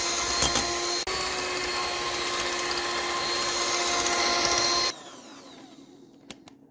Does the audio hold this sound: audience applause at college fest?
no